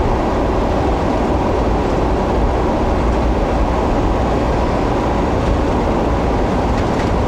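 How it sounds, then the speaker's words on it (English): A train rolls past on a railway line across northern Australia, a steady broad rumble of wheels and wagons that stays loud and even throughout. "Well, the train going back the other way."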